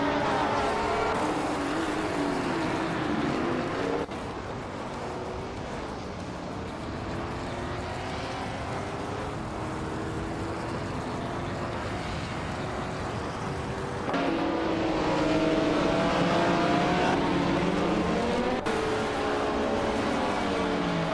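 Race cars speed around a track in a video game, a continuous loud engine drone with a steady whine that shifts in pitch and intensity, heard alone with no talking.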